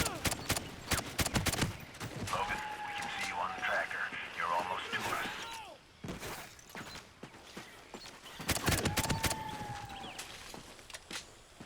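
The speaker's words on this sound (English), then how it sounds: "Gunfire." Gunfire from the Call of Duty: Ghosts video game comes as scattered bursts of sharp shots, with voices talking throughout and a lull partway through.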